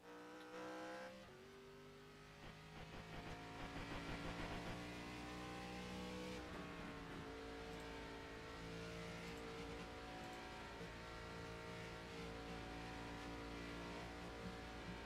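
Race car engines in a racing video game roar and rev continuously, shifting pitch as they accelerate, with occasional tire squeal, loud and steady throughout, during qualifying for the Daytona 500.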